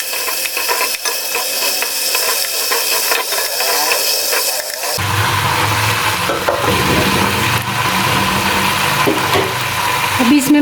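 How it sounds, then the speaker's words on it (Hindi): Chicken sizzling and frying in a pan for a home-style chicken gravy, a steady loud crackle that grows denser and stronger midway, with stirring scrapes and no talk. "चिकन हो चुका है फ्राई।"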